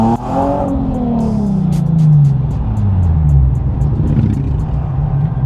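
A loud car passes close by on a London street, its engine revving and then falling in pitch as it moves away, with a steady rumble behind it.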